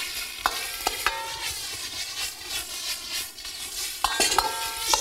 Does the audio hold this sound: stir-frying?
yes